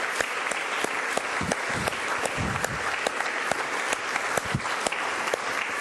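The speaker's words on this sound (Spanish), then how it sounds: "Un aplauso al Eterno, por favor." A church congregation claps in steady unison, producing loud, rhythmic applause with evenly spaced beats throughout.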